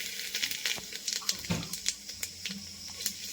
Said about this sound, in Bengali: তেলে তেজপাতা শুকনো লঙ্কা জিরা ফোড়ন